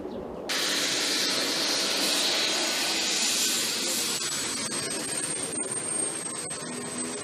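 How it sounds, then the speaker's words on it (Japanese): A prefectural fire and disaster helicopter flies during an aerial inspection of a large forest fire, its engine and rotor a loud, steady roar with a rising whine, heard from inside the cabin. "吉村三重子知事は16日、県消防防災ヘリ、最上に乗り込み、上空から焼損状況を確認しました"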